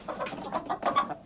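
A chicken clucks in a few short, close bursts, loud and with no other sound around them.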